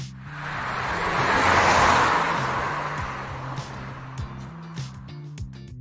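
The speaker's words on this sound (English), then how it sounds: "find a sound effect, so maybe a car driving by" A car sound effect from a stock library swells and passes by over several seconds, its broad whoosh peaking early and then fading, with a low steady hum and a few soft thumps trailing off at the end.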